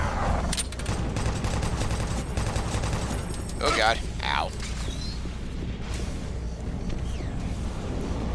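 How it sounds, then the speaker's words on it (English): Rapid chain gun fire in Doom 3: Resurrection of Evil, a dense run of loud overlapping shots mixed with game effects and short bursts of other weapon and impact noises. "Use a chain gun for a while."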